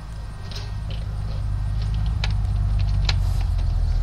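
Pink car driving in the video game Unturned, a steady engine drone with road rumble that grows a little louder and holds, with no talk over it.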